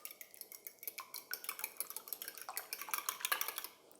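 Eggs and milk whisked together in a bowl with a utensil for cake batter, a fast run of light clinking and tapping strokes against the bowl, close and rhythmic, with no talking.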